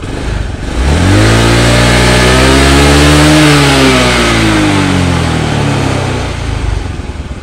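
A carbureted Honda Beat motorcycle engine revs up loudly, rising in pitch and holding high before easing back down, close by with no talking.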